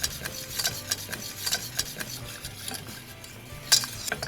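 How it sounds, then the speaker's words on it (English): A whisk scrapes and stirs rhythmically through a softening sauce as milk is added, with repeated light metallic strokes against the pan, close and steady. "And now that it's softening, I can whisk in half a cup of milk"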